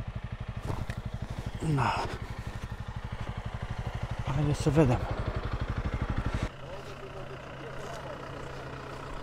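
A motorcycle engine idles at a lakeside campsite with a steady, rapid, throbbing putter. Someone talks over it, and the idle cuts off abruptly about two-thirds of the way through.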